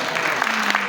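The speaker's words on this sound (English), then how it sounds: "you can clap for yourself" Audience at a progressive political group's annual meeting clapping in a brief, dense burst of applause, with a voice talking over it.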